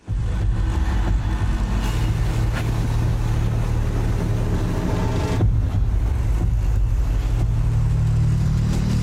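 A race car pulling away at the start of the Doi Chang hill climb in Thailand, a loud continuous engine roar with wind buffeting, shifting tone about halfway through as it accelerates.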